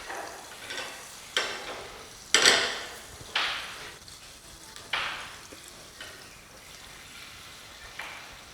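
Butter melting in a pan for Saint Germain soup, a soft crackling sizzle broken by periodic louder stirring scrapes, fairly quiet, with no voices.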